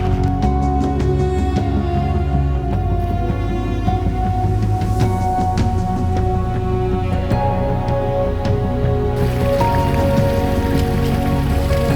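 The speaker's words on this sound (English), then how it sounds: "The rain is a bit much now." Steady rain falls in the Sierra Nevada mountains during a backpacking trip, a dense continuous patter on surfaces that stays loud and even throughout, with no voices.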